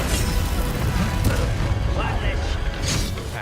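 A Confringo blasting spell explodes in Hogwarts Legacy, a loud, sustained rumbling boom filling the whole moment, with a voice speaking beneath it.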